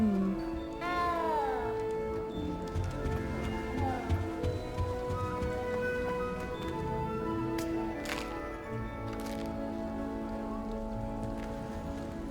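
A cat meows repeatedly in the video game Hogwarts Legacy, with several drawn-out, wavering cries over a steady patter of rain.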